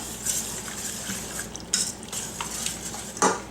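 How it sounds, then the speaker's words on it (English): Spoon stirring strawberry vanilla jam ingredients in a pot to dissolve pectin, with soft scraping, occasional light clinks of utensil against metal and faint liquid sloshing, close and quiet. "I'm going to stir in all my ingredients and dissolve the pectin."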